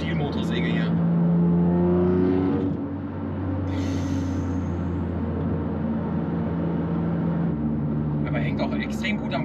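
A BMW M3 with a naturally aspirated engine revving hard toward high rpm, a loud sustained engine roar that rises and then settles into a steady drone, with people talking over it.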